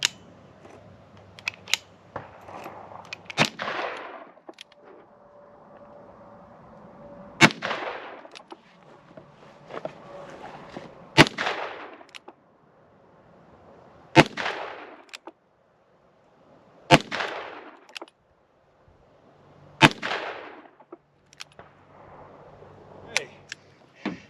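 A .44 Magnum Ruger Super Redhawk revolver fires about seven sharp, loud shots spaced a few seconds apart outdoors, each crack followed by a brief ringing echo, with quiet gaps between.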